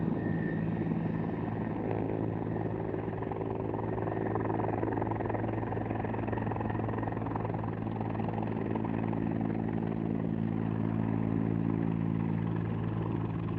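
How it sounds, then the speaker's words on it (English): A helicopter drones overhead outdoors in wooded country near water, its steady rotor and engine hum holding loud and even for the whole stretch, with no talk over it. "Here comes the helicopter now."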